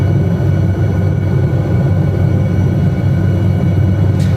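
An SA315B Lama helicopter in flight over Lofoten, Norway, gives a loud, steady droning rumble with a constant engine hum, heard close and continuous from inside the aircraft.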